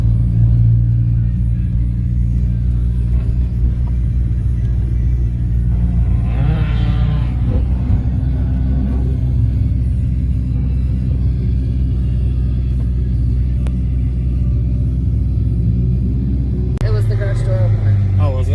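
A loud car engine revs and shoots flames at a meet, a constant heavy rumble under nearby chatter, with a sharper rise in pitch near the end.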